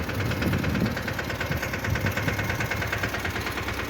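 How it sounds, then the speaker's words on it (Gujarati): A mini tractor's engine runs steadily on a cotton farm, a close, loud, rough mechanical chug with constant vibration and no breaks. "આપણું મિની ટ્રેક્ટર હાલે છે"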